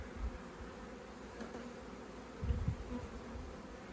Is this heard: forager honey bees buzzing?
yes